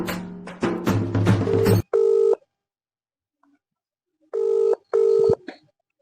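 A phone call rings out: a brief melodic burst opens, then three clean electronic ringback tone pulses sound in two groups, loud and close, with silence between them.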